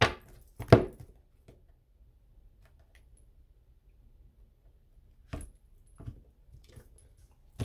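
A deck of playing cards being cut during a card reading, heard as a few short, sharp shuffling snaps and taps, close and isolated amid quiet pauses.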